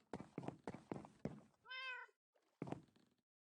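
Minecraft cats in the video game meowing: a quick series of four clipped, bright meows, then a longer drawn-out tonal meow, a pause, and one more short meow, all close and clear.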